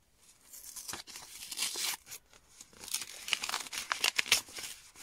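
Paper being torn and crinkled while a Christmas parcel is opened by hand, close ripping and rustling bursts in an uneven rhythm across several seconds, with no voices.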